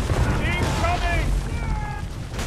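Gunfire and heavy booms rumble through an Assassin's Creed III battle, a dense continuous barrage of low blasts with shouted voices and talk layered over the top.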